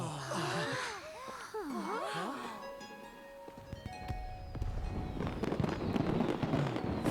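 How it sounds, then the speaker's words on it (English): Fireworks go off in the video game Genshin Impact, with bursts and crackles building toward a dense, noisy stretch near the end, layered over game music and vocal gasps. "Fireworks."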